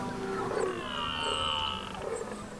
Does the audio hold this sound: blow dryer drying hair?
no